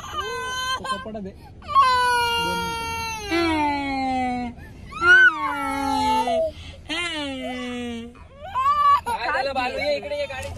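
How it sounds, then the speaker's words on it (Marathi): A baby cries in loud, drawn-out wails and whimpers close by, with short breaks between sobs, while an adult speaks now and then. "कसा रडतोय बघा"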